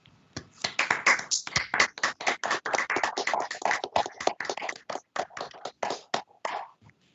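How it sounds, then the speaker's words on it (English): A few people clap over a video call to welcome new lawyers at a court session, sparse, distinct claps in an irregular rhythm heard up close, thinning out toward the end. "give you a hearty round of"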